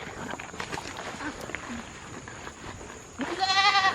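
A goat bleats loudly near the end, a wavering cry after a few seconds of faint rustling and outdoor background noise.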